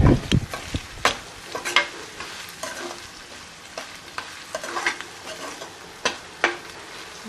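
Paneer stirred and frying in a pan gives a soft continuous sizzle with repeated scraping and clinking stirring strokes, close and clear with no talk.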